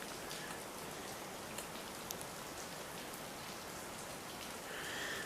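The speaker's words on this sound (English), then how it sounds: "There's a trickly waterfall down there." A low-flow trickling waterfall below a mountain shrine in a cave in Japan during dry weather, heard as a steady, soft, broadband wash of falling water with faint scattered droplet ticks.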